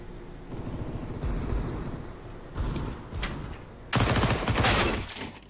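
Desert Eagle pistol shots ring out during a CS:GO tournament match, with several sharp, punchy bursts spaced a second or so apart over a low background rumble.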